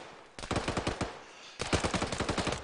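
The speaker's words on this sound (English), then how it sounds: "I know where they're coming shooting from" Rapid bursts of automatic gunfire during a Marine Raider field training exercise, two sustained rattling volleys separated by a brief pause, loud and fairly close.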